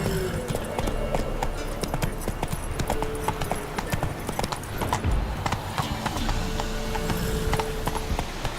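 Hooves of the horse Roach clip-clop steadily at a trot in The Witcher 3, a continuous rhythmic patter close by under game ambience and music, with a brief low thump midway.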